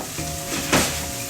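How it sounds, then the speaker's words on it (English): Mushrooms caramelizing in foaming butter in a pan give a steady, close sizzle, swelling briefly into a louder crackling hiss before settling back. "Starting to soften up, caramelize, butter's foaming"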